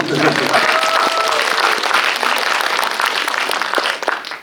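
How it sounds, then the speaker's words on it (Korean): An audience at a Korean film screening Q&A for the movie Deadman breaks into loud, sustained applause, a thick continuous wall of clapping that holds for several seconds before thinning slightly at the end. "박수를 쳐야 되지 않을까요?"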